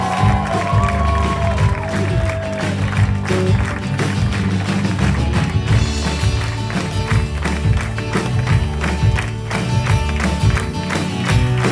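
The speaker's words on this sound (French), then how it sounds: "on fait un tonnerre d'applaudissements pour monsieur Eric." A concert audience at the Polyèdre applauds and cheers for a band member in a long, dense wash of clapping that continues alongside loud live music throughout.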